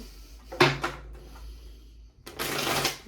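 A deck of tarot cards is shuffled close by in two short bursts of papery riffling separated by a quiet gap.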